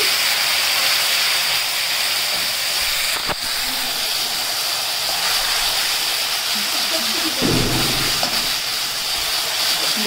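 Onion, garlic, ginger and green chili paste hitting hot oil in a pan for home-style shahi paneer, a steady broad sizzling hiss throughout with a brief sharp crackle partway and a louder burst of spattering near the end.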